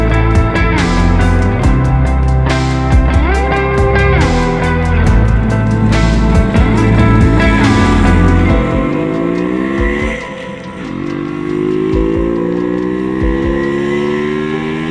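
A home-built 1968 MZ ES two-stroke streamliner motorcycle rides close by, its engine loud and steady with rising and falling revs through gear changes, then easing off and fading slightly near the end.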